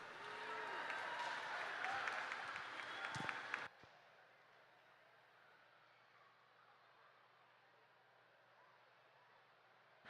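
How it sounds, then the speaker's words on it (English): Applause from a crowd at a youth swim meet championship honoring a breaststroke race winner, a dense steady clapping for about three and a half seconds that then cuts off, leaving a quiet hiss. "Give Marco a big round of applause."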